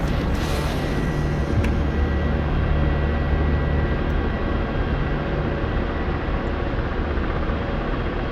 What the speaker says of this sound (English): I'm in a helicopter, damn it.